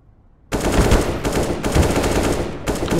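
Rapid automatic gunfire in a video game sounds loud and close in sustained bursts, with two short breaks between volleys.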